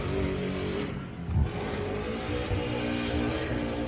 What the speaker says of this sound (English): Got an exhaust issue by the sounds of